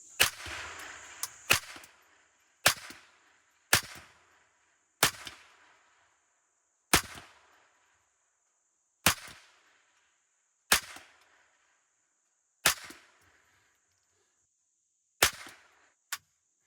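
About a dozen sharp cracks from a cheap .22 rifle fired outdoors, each a loud snap with a short ringing tail, spaced one to two seconds apart, with a faint high electronic tone running underneath.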